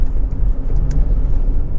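A warm 2.0 i-VTEC petrol engine in a Honda CR-V SE Sport idles steadily up close, a smooth continuous low hum with no talking.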